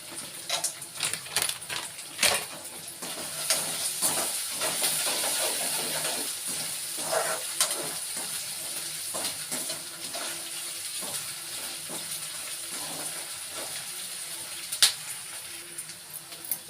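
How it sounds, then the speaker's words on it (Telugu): Peanuts frying in hot oil for a Telugu-style okra fry, giving a steady dense sizzle and hiss with scattered crackles and small clinks throughout, close and moderately loud, with no talking. "ఇప్పుడు ఏం చేస్తున్నా కొన్ని పల్లీలు వేసుకుంటున్నా, తగినంత పల్లీలు. ఇవి కూడా ఆయిల్లో వేపుకోవాలి."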